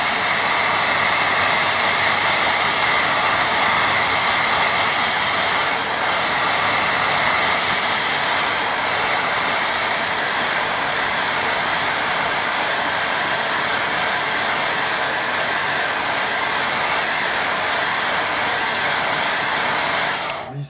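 A hair dryer blows steadily at close range over a watercolour painting of a farmhouse, a loud continuous whooshing roar that holds constant for about twenty seconds before cutting off at the end.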